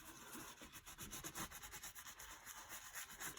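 Ariat Groundbreaker leather boots being scrubbed and cleaned section by section, a steady close brushing rub with rhythmic back-and-forth strokes throughout, no voices.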